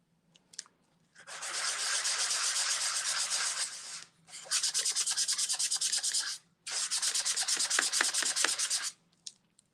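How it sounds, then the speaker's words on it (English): Three long bursts of steady, raspy hand sanding of a mixed media collage, close and fairly loud, separated by short pauses. "We're doing some sanding"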